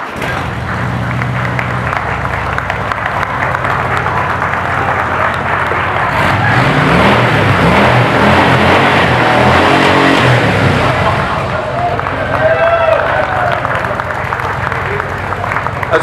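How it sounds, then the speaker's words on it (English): Harley-Davidson motorcycle engines starting and revving at a bike rally on the Corpus Christi shore, a loud continuous rumble with rising revs over crowd noise and cheering. "Here, start your engine."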